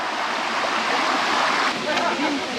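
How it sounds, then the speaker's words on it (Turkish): Flowing stream water at the top of the Tatlıca waterfalls in a canyon at Erfelek, Sinop, a steady broadband rush that stays close and loud throughout, with no voices over it. "Burası aşağıdan gördüğümüz şelalenin akıntı yeri."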